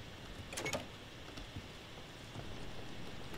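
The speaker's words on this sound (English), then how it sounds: "Oh my god, it just rained." Rain patters in the Roblox horror game Doors as a soft, steady hiss of drops on a surface, faint and even, with a few brief clicks near the start.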